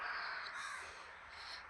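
A crow caws loudly and harshly, close by, in one long drawn-out call that rises again near the end, heard on its own without talk.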